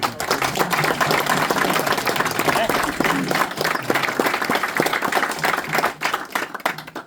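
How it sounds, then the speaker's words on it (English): Audience applause for Irish Army veterans who served in the Congo, a steady, dense clapping that fills the room, with murmuring voices underneath as it tapers at the end. "I'd like if you don't mind to just give them a round of applause"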